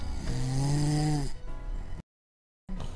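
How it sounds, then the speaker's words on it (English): Loud snoring in a children's Christmas story, one long rumbling, snorting inhale of a big sleeper, close and heavy, then fading before a brief silence. "turned over and snored like thunder, so loudly it shook the walls"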